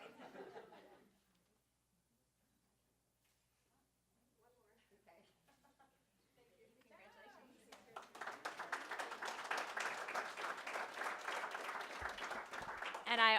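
A school Student of the Month announcement where an audience at the back corner of the room breaks into loud sustained applause and cheering, building after a quiet pause with scattered murmurs and lasting to the end.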